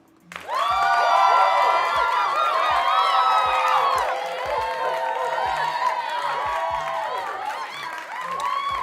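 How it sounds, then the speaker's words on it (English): A live show's synthetic crowd applause and cheering effect plays for a viewer donation, a bright burst of clapping and whoops that swells quickly, holds loud for several seconds and then eases off. "Round of applause."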